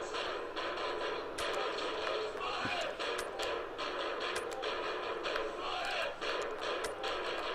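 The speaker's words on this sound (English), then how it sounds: "Hark at that crowd chanting Spartans in the background." Stadium crowd in the football video game PES 2014 chanting for the Spartans during an FA Cup second-round match, a dense continuous roar with sharp bursts and swells, steady and fairly loud throughout.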